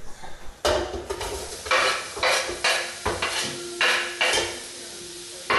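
Sliced small onions are stirred around in hot oil in a pan, several scraping strokes with a utensil against the metal over a soft sizzle, close up and repeated.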